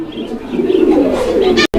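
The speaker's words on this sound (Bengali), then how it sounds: "শুরুতেই আমরা যে কবুতরটা দেখাচ্ছি এটা হচ্ছে জোড়াটার মাদি কবুতরটা" A fancy pigeon, the hen of a pair, cooing close by in a continuous throaty coo that swells and falls before cutting off abruptly near the end.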